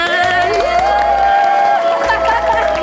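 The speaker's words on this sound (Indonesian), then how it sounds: "sekarang semua tepuk tangan, yang di rumah juga harus tepuk tangan, yang sini juga harus lebih meriah" Studio audience on an Indonesian TV show cheers and applauds loudly and steadily, a lively crowd roar with whoops throughout, close and full, with a held musical tone running underneath.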